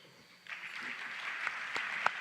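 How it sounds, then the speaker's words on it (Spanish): Moderate applause from an audience, steady clapping with a few sharper claps standing out. "Un aplauso."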